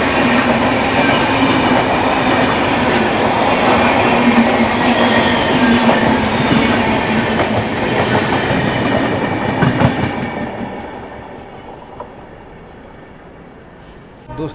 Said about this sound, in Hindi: दोस्तों अभी हमारी गाड़ी गाज़ियाबाद घुस रही है